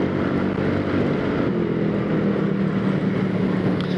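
A Yamaha X-Ride motorcycle, around 2014, rides along a road in the late afternoon after light rain, its engine giving a steady, continuous drone mixed with wind rush, with no voices.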